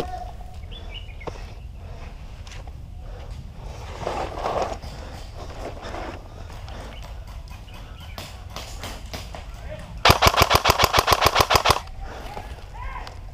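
Rapid bursts from an ASG CZ805 Bren airsoft gun with a Gate TITAN V3 trigger unit during an outdoor airsoft game, a loud fast string of sharp clacking shots near the end after quieter field noise.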